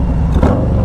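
Harley-Davidson Street Glide Special FLHXS motorcycle accelerating hard in second gear, a steady loud engine drone heard from the rider's position with wind rush, no talk during the pull.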